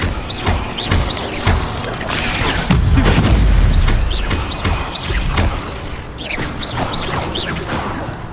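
An Incendio fire spell erupts in Hogwarts Legacy amid spell-casting combat: clicky magical crackles and whooshes build into a heavy, rumbling fiery boom that swells for a second before fading back into scattered clattering effects.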